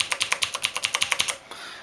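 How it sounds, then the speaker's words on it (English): Rapid clicky typing on the Cherry MX Blue switch keyboard of a 1989 Bondwell B200 laptop, about a dozen crisp, loud, close keystrokes in an even rhythm, then stopping. "It has cherry MX blue switches on under its keys."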